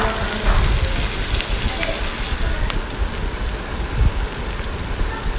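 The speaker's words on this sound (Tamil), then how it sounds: "நல்லா வணக்கி விட்டுட்டு" Onion, curry leaves and urad dal sauté in hot oil for a brinjal fry, giving a steady, dense crackling sizzle with faint pops throughout.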